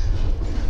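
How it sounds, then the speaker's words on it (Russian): Train wheels clattering on rails inside a moving passenger train, a loud, dense rumble with low-pitched rolling noise filling the short moment. "Мне нравится сам звук, стук колес."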